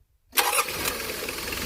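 A Mitsubishi Delica Starwagon campervan engine cranks and catches after silence, then settles into a steady close idle.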